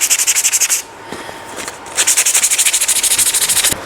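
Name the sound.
sanding a craft piece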